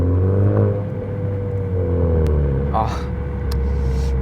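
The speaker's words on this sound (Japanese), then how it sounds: "最初にですねこのマフラー音を聞いてください" A Honda Civic Type R FK7 with an HKS aftermarket muffler rumbles low and steady at idle, rising slightly in pitch with light revs, close by.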